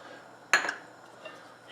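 A single sharp metallic clink of a spoon against a cooking pot as salt is stirred into rice and lamb haneeth, followed by a faint softer knock, with no talk.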